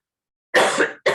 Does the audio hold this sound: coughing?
yes